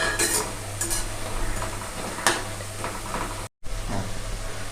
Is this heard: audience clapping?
no